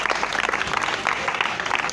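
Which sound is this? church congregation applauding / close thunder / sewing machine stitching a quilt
church congregation applauding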